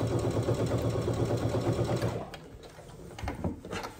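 Sewing machine stitching a 3/8 inch seam around a drawstring backpack, a fast steady whirring run for about two seconds that then stops, leaving faint handling clatter.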